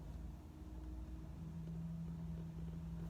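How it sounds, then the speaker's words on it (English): Cars driving past on a road produce a low, steady engine rumble with a droning hum, moderately loud and continuous, and no voices are heard. "All these cars driving past making me jealous"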